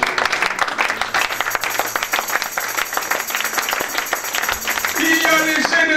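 An audience bursts into sustained applause, dense clapping continuing steadily at close range, with a brighter, louder swell toward the end.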